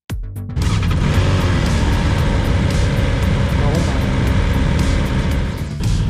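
BMW S 1000 XR motorcycle pulling away, a sharp start followed by a loud steady engine and wind roar that holds constant close to the rider for several seconds.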